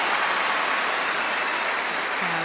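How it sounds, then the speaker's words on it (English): A crowd on Wimbledon's centre court applauds in a dense, steady wash of clapping that holds loud and continuous throughout. "Listen to the crowd on centre court."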